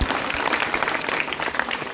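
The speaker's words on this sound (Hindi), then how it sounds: "तालियां करते हैं" An audience at a Martyrs' Day poetry recital claps in a dense, loud burst of applause that holds steady throughout.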